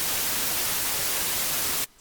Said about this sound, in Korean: 백색 노이즈는 요거죠.